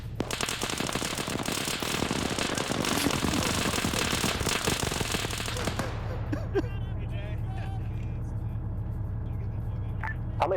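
Dense rapid gunfire in a video game as players shoot at someone falling from a drop point, a loud continuous rattle for about six seconds, then sparse shots and engine hum, with voices talking over it.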